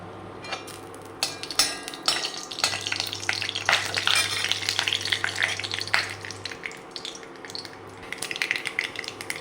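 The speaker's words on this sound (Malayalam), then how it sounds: "കടുക് പൊട്ടി വരുന്നുണ്ട്" Mustard seeds splutter in hot coconut oil in a Kerala cheenachatti, making dense irregular crackles and pops over a steady sizzle, with a few metallic clinks from the pan.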